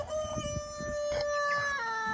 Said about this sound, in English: that's a new rooster